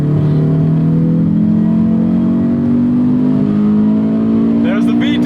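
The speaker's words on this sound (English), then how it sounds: "There's the VTEC, baby." A 2006 Honda S2000 AP2 engine heard from inside the car as it revs up through the gears, a loud steady droning note climbing in pitch toward VTEC, with someone briefly speaking near the end.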